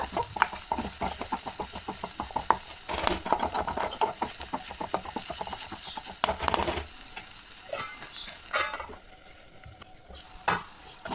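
An egg is beaten and stirred into a soya filling in a pan, giving rapid, close scraping and tapping strokes for several seconds, then slower, scattered stirring noises.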